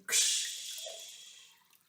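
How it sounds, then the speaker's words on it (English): Water poured from a cup into a milk bottle, a sudden splashing gush that starts loud and trails off over about a second and a half, close and alone. "I'm going to pour it into the milk bottle and see if I'm right"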